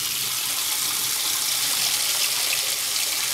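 A steady stream of water pouring from a tap, continuous hissing splash at close range with no pauses.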